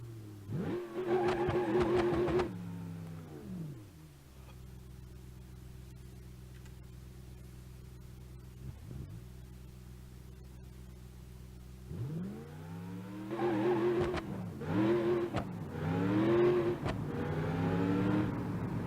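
A car engine in BeamNG.drive revs hard, drops to a steady idle-like drone, then climbs through repeated loud revving bursts toward the end, close and alone without talk.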